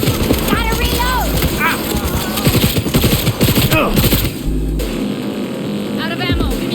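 Rapid automatic gunfire in the video game Cyberpunk 2077, loud, close bursts of shots in quick succession with brief pauses between volleys.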